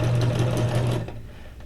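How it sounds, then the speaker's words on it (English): A sewing machine stitches around a small paper vocabulary card for a junk journal, a loud steady motor hum with rapid needle chatter that runs for about a second before fading to a quieter whir. "I also want to go around my little vocabulary card here with a stitch,"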